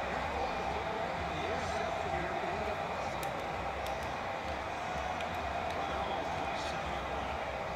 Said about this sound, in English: the crowd is back alive here in Milan Puskar Stadium